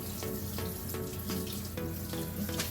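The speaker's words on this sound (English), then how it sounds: "First, we're going to rinse off our pasta and cool it down." Tap water runs steadily into a kitchen sink as cooked pasta is rinsed, a continuous splashing rush with small irregular surges and no talking.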